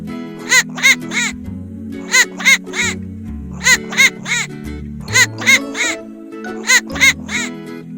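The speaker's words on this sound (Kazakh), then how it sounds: "Үйрек." A duck quacks in a children's cartoon about domestic birds, giving loud, close bursts of about three quacks at a time, repeated several times over light background music.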